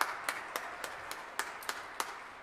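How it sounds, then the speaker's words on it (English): A few sparse, separate claps sound faintly during a Sunday church service, spaced irregularly and quiet against a soft room hush. "let's just give a round of applause to everybody that helped out in that way"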